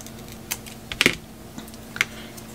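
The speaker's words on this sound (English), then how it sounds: "I do like to cut this at an angle" Basket flat reed being cut at an angle for a frame craft, heard as a few sharp, close snips and clicks spread apart with quiet gaps, no talking.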